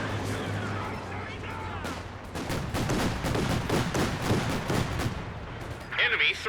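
Gunfire and battle effects in a Company of Heroes 2 match as a sniper rifle fires on an anti-tank gun; dense, continuous crackling bursts under a commentator's voice, with one sharper high burst near the end.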